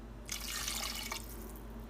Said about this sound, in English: Next, you just want to add water to cover it all up.